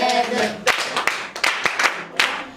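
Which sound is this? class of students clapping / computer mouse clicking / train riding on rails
class of students clapping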